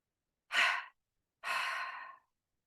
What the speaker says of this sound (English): Breathe in through your nose. And breathe out through your mouth.